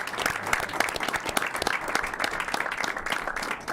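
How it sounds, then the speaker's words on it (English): A small group applauds a youth soccer team, giving brisk, fairly close clapping at a modest volume that continues steadily throughout. "round of applause"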